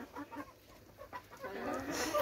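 Chickens clucking on a farm with a few soft, scattered calls over a rustling background, growing somewhat louder toward the end.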